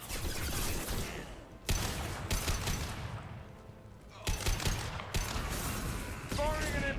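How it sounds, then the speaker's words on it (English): Impact shot gunfire and combat in the video game Mass Effect 2, with sharp repeated bursts of shots and mechanical clatter in clusters, close and loud, with voices talking between them. "Firing an impact shot."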